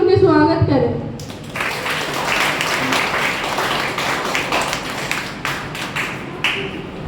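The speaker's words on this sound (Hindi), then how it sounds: "तालियों की गड़गड़ाहट से उनके स्वागत करें" An audience breaks into applause for a Hindi poem recital at a Hindi Diwas event, a dense burst of clapping that holds steady for several seconds after a brief voice at the start.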